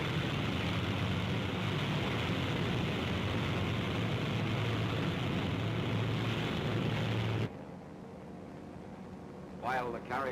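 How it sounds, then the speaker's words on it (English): Carrier aircraft propellers drone loudly in a World War II Pacific newsreel, a thick steady roar for about seven seconds that cuts off abruptly, followed by quieter sound and a brief voice. "Aircraft leave the flight decks during extensive attacks that softened up the Central Pacific targets"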